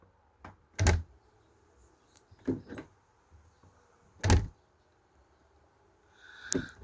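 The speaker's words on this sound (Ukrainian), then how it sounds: "Все класно, двері закриваються." An adjusted metal-plastic door is closed several times, each attempt giving a sharp, heavy thud with some rattle. The loud knocks are spaced irregularly with quieter clicks between them, close up and without speech.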